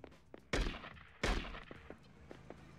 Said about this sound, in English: I know that motherfucking shotgun that nigga was shooting was not just hitting me from that far